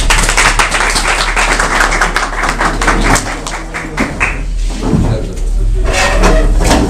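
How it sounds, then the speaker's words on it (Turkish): Audience at a Democratic Left Party (DSP) political gathering in Balçova, İzmir, applauding with a dense, sustained clatter of many hands, loud and close, with a voice over a PA speaking intermittently above the clapping. "Size de bir alkış istiyorum lütfen."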